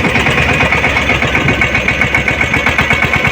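A tractor engine runs steadily at a loud, even idle-like drone with rhythmic mechanical pulsing close by, with no voices.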